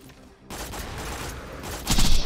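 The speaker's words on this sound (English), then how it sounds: "Get a magic missile off early." Maya firing a magic missile spell in a looter shooter game, a dense burst of crackling, rapid-fire impacts that starts abruptly and swells louder near the end, close and loud.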